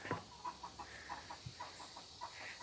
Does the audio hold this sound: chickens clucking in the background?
yes